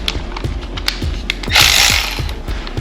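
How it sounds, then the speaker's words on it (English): A ratchet on a Harley Davidson motorcycle loosens 3/4 inch bolts with a fast, steady run of close, loud clicks. Midway through there is a short, harsher whirring burst, and no one talks. "Now we're gonna take these bolts off, 3/4 inch."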